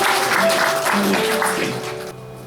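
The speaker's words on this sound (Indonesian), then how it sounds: "Tepuk tangan buat Allah Israel." A church congregation applauds during a sermon, a dense wash of many hands clapping together, held steady and fairly loud before tapering off near the end, with faint sustained tones beneath.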